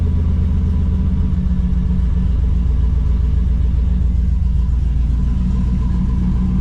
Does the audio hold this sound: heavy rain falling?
no